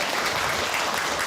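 Audience applause fills a Father's Day celebration gathering as a dense, steady wash of many hands clapping at once, even in loudness throughout the brief moment, with no voice standing out above it.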